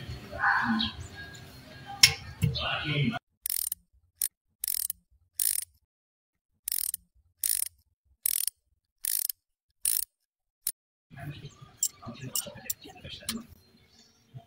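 Ratchet wrench loosening a timing belt tensioner on an engine, a run of about ten sharp separate ratcheting bursts at a fairly steady rhythm, with clattering workshop handling sounds before and after.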